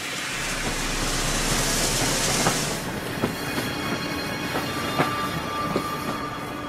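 Train cars roll on rails with a steady rumbling roar and a rhythmic clickety-clack of wheels on track joints, fairly loud and continuous, like a Victorian steam-era train journey.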